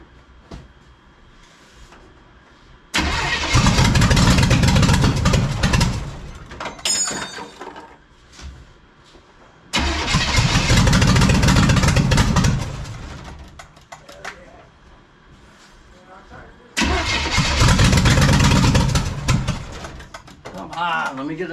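A bagged 1972 Mazda fitted with a NASCAR V8 engine cranks and roars loudly in three bursts of about three seconds each, separated by quieter gaps.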